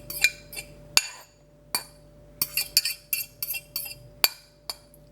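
A spoon turns beaten eggs into fried potatoes in a bowl, giving irregular sharp clinks and taps against the bowl, some single and some in quick clusters, with quiet gaps between.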